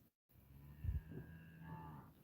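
Cows lowing in a field, a single drawn-out moo near the start followed by a long, steady bovine call, moderately distant and fairly quiet, with no talking.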